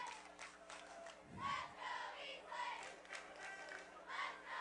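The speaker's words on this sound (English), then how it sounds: "As the cheers from the Eastlake crowd begin" Eastlake home crowd cheering and chanting in the stands at a Helix vs. Eastlake high school football game, a distant rolling roar that swells and fades in waves.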